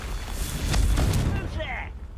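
A Confringo spell explosion in the Hogwarts Legacy video game, a low rumbling blast that swells and fades over about two seconds, with a brief magical shimmer near the end.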